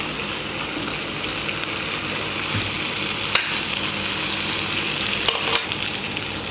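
Tandoori chicken pieces sizzle in a hot kadai, a steady close frying hiss with a couple of sharp knocks as the pieces go in.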